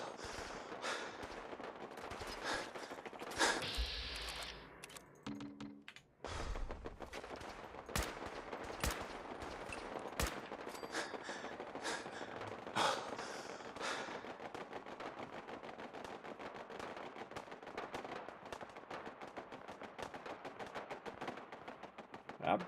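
Gunfire crackles through a settlement attack in Fallout 4, with dense bursts of shots and sharp reports repeating across the whole stretch over a constant battle din and a brief low hum in the middle.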